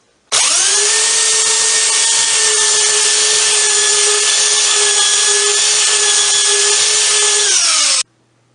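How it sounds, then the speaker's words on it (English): A belt sander runs steadily on the seams of a wooden round tabletop, a loud continuous motor whine with abrasive hiss that starts abruptly, holds evenly for about eight seconds, then winds down, with no talking. "The seams of the tabletop are sanded smooth with a belt sander."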